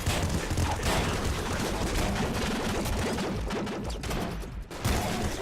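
Loud, dense sustained barrage of rapid weapon fire from a super plasma cannon in the video game Nuclear Throne, with continuous crackling blasts and booming low rumble, no pauses across the whole stretch.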